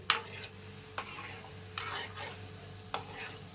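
Gulab jamuns frying in hot oil while being stirred slowly, with a low steady sizzle broken by a few soft, spaced scraping clicks of the stirring spoon.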